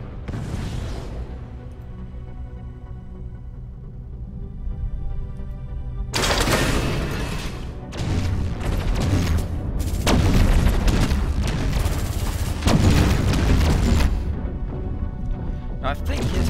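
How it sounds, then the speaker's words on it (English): Gunfire in a space battle from Endless Space 2, gun-type ship weapons at short range: a loud, sustained barrage of booming, crashing shots with dense overlapping impacts that starts abruptly after a quieter stretch of game ambience. "Gun-type weapon rather than lasers to me."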